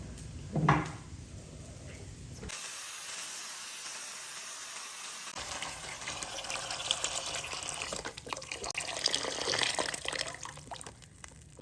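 Vegetable broth, four cups, poured into a pot of rice with peas and carrots, making a steady liquid pouring and sizzling rush that builds and continues for several seconds after a brief clatter.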